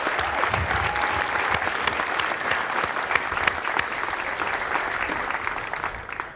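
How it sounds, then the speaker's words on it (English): Crowd applause fills an outdoor Air Force Basic Military Training graduation ceremony, a steady, dense wash of clapping from many families and friends that holds evenly throughout before easing slightly at the end. "Let's give them a round of applause."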